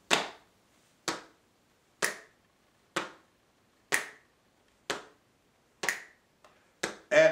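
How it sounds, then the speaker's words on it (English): Sharp, dry left-hand finger snaps on beats 2 and 4, repeating at a steady one-per-second pulse, eight in all, crisp and close with silence between each. "Change that to a finger snap with your left hand on beats 2 and 4."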